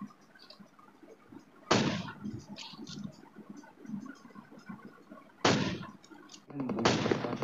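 Sniper rifle shots in the mobile battle royale game PUBG Mobile, with three sharp loud cracks spaced apart over a low background of game ambience.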